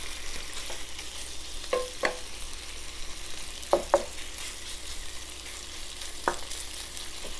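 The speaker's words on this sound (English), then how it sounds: "It doesn't take pork too long to brown up." Pork browning in a pan, a steady soft sizzle running under a handful of scraping stir clicks, with no talk.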